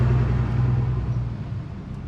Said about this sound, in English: lots of traffic today